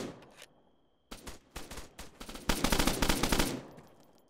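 Automatic gunfire in Arma 3. A couple of short bursts come first, then after a pause come separated single shots, then a fast, loud rattling burst that stops abruptly near the end.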